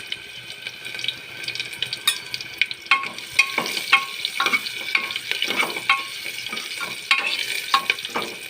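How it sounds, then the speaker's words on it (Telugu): Vegetables with turmeric frying in a pan for dondakaya (ivy gourd) curry, giving a steady close sizzle with repeated sharp scrapes and clinks of a stirring spoon. "కొంచెం వేగే ఫ్రెండ్స్."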